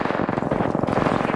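Rapid, dense gunfire in the Apex Legends video game, a loud continuous stream of close shots that fills the whole moment with no pause.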